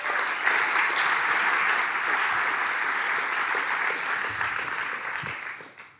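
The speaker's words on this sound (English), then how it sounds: "So please give a warm applause for Erwin Slegers." A large audience at a graphic design event gives sustained applause, a steady wash of clapping for about six seconds that fades at the end.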